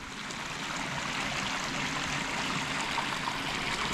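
Creek water rushes around a beaver dam as a steady, moderate broadband wash that stays even and continuous throughout.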